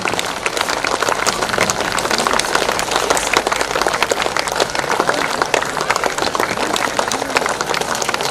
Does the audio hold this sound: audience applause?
yes